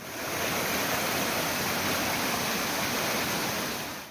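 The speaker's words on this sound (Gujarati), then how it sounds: "નાના ઝરણા અને ધોધ વહેતા થતા સુંદર નજારો જોવા મળી રહ્યો છે" Monsoon-swollen waterfalls and small streams rush through forest in Valsad district, Gujarat, making a steady, dense roar of flowing water that holds unbroken throughout with no voices.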